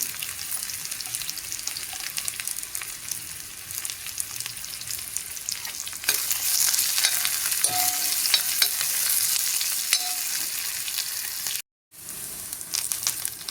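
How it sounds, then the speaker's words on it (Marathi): Ginger and garlic roast in a pan with onion for a spicy mutton gravy, giving a loud, steady, close sizzle that swells partway through. The frying cuts out briefly near the end before resuming. "त्याच्यामध्ये आता हे आलं आणि लसूण घालते ते पण भाजून घेते"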